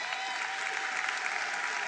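An audience applauds an award winner at a ministerial announcement of national exam results, a dense, steady patter of clapping from a large crowd sustained throughout.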